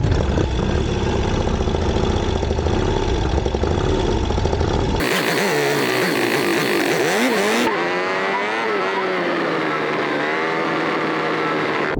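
Kickstarted motorcycle with a broken push rod runs loud and continuous, its engine note shifting partway through, with no talk.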